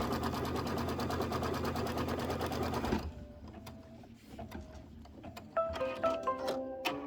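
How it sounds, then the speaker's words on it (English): A sewing machine quilting a Kimberbell autumn quilt block runs in a loud, steady whir for about three seconds, then stops, leaving scattered small clicks and taps of the machine and fabric handling. "And then we'll do the quilting."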